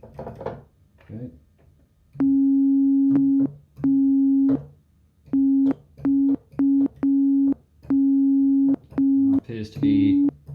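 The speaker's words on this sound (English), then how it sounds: "a test tone that's the same on every key" A steady electronic test tone sounds in repeated bursts of identical pitch from a keyboard, interspersed with clicks of key presses and a person talking.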